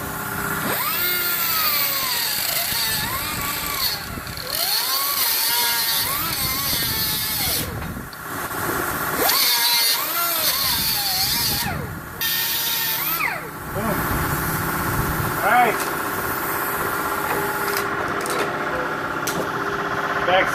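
A tool cuts open a used oil filter from a 2018 Ford Raptor after 7,000 miles. The cutting comes as repeated rising and falling mechanical whines and grinding passes, close and loud, with people talking throughout.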